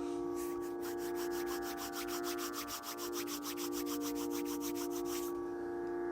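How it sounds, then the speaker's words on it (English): Palms rub together briskly in a quick, even back-and-forth, a close dry swishing over a steady background hum, with no speech. "Rub your palms together to create a warmth."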